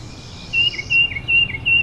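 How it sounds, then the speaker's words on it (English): Perching birds chirping at the Kreher Preserve & Nature Center, a repeated series of thin, high, evenly spaced chirps, fairly loud and close over a quiet outdoor background. "The perching birds of the preserve have the greatest variety."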